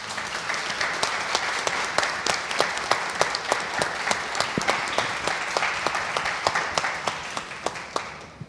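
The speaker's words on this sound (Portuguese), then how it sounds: "queria pedir uma salva de palmas para eles aqui" Sustained audience applause at the close of a debate panel at an event, dense clapping from a crowd in a hall, steady and fairly loud throughout with individual sharp claps standing out, gradually tapering near the end.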